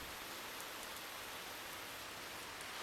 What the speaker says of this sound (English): bit of a rainy winter's day